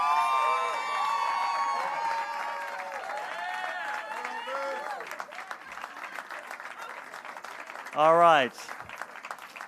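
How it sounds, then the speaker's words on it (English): Audience applause and cheering at a Hollywood Walk of Fame ceremony, steady clapping from a large outdoor crowd with someone speaking over it and a brief loud burst near the end. "You can bask in the applause here"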